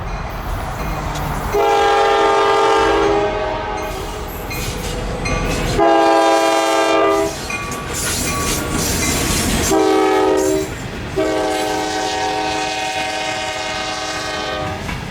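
Two locomotives pull a shortline freight train near Simpson, North Carolina, sounding loud repeated horn blasts over the rumble and clatter of engines and rolling cars passing close by.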